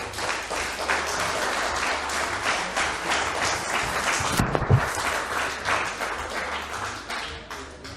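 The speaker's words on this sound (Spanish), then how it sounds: "Denle un aplauso a Cristo" Congregation applauding during a church sermon, a sustained, fairly dense round of clapping with individual claps audible, a brief low thump midway, then steady clapping until the end.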